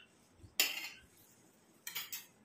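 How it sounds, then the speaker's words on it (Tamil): Spoon stirring a castor oil hair mixture in a metal container, two bright clinking scrapes separated by a short pause, close and fairly quiet with no talking. "நல்லா 2 கலந்து விட்டுருங்க"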